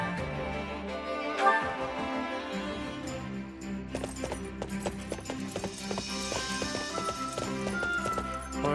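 Horses in Fire Emblem Warriors: Three Hopes gallop in a quick, steady clip-clop of hooves under game music, running through most of the stretch at moderate loudness.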